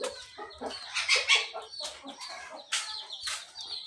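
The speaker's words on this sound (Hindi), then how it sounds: "ये देखें ये हमारा काला मुर्गा है" A black rooster clucking close by, a series of short, uneven throaty clucks and squawks with brief pauses between them, fairly quiet overall and with no talking.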